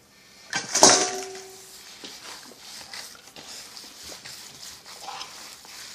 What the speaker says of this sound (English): I mix the garlic in.